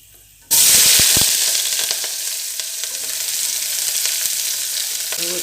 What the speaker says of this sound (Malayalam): എണ്ണ ചൂടായിട്ടുണ്ട് കേട്ടോ ഇനി ഇതിലേക്ക് കുറച്ച് ഉരുവട്ട കൊടുക്കാം ഉള്ളി അരിഞ്ഞതിട്ട് കൊടുക്കാം